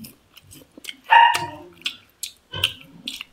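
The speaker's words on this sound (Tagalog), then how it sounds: "Sinsya na po kayo sa mga aso, ha?" Dogs bark in short, sharp, irregular bursts, a few yips and barks scattered close by with silent gaps between them.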